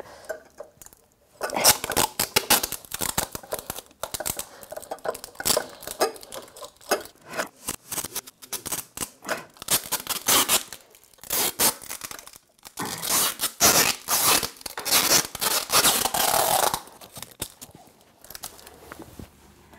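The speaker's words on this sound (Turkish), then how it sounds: "Şimdi bu maç kornasını Melih'in sandalyesine bantlayacağım arkadaşlar" An air horn is taped onto a chair as a prank, with repeated loud tearing and stretching of packing tape in quick bursts and pauses, close up and without talk.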